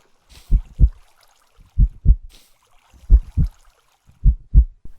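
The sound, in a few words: heartbeat of a warm egg in Minecraft video game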